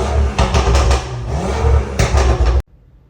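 A tuned BMW F10 converted to F90 spec, stage 2 tune and rear-wheel-drive conversion, nearly 500 horsepower, revs loudly and up close in a few hard bursts before cutting off abruptly into quiet.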